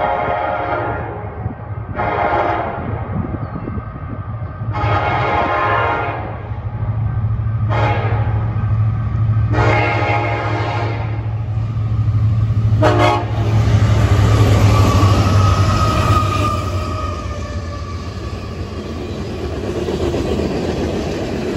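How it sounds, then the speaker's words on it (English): A train horn sounds in several long blasts, then the train rumbles past with rolling clatter and a low steady engine drone. "This locomotive, this train is coming from Sacramento."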